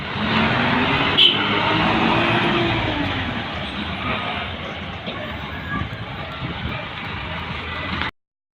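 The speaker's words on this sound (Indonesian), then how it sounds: "mobil McLarennya numpang lewat" McLaren supercar passing on a narrow road, a loud engine roar and tire rush sweeping by close, fading gradually, then cutting off abruptly.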